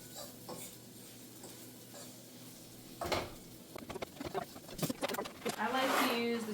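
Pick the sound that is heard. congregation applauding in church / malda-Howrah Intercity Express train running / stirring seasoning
stirring seasoning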